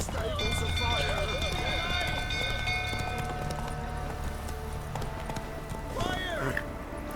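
Roach the horse galloping in Witcher 3, with steady clip-clop hoofbeats running under a layer of game music and ambient noise, plus a brief whinny-like call near the end.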